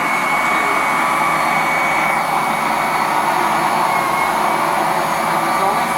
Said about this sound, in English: you need a carpet washer to get the rest of it out